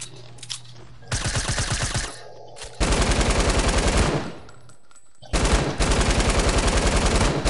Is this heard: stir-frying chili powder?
no